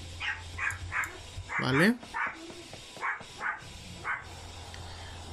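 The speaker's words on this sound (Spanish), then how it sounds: "Qué mal momento se puso para que empezara a ladrar mi perra, la verdad." A female pet dog barks repeatedly indoors at close range in short, sharp bursts, with a higher yelp in the middle, while someone talks over the barking.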